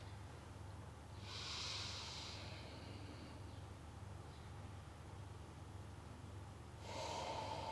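Deep breathing exercise: a slow, close inhale with an airy hiss, then a long quiet exhale, and another inhale beginning near the end over a low background hum.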